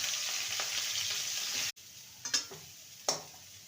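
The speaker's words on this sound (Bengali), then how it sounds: "এবারে ফুলকপিটাকে ভেজে নেব।" Blanched, drained cauliflower florets fry in a pan with a loud, continuous hiss that cuts out abruptly, followed by a few sharp spoon clinks against the pan.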